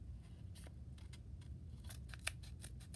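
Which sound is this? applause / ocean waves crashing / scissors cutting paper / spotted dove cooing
scissors cutting paper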